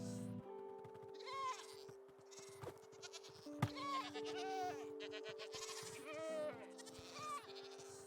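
Goats in the Minecraft video game, under a jump boost effect, bleat repeatedly over steady game music and sound effects across the whole stretch.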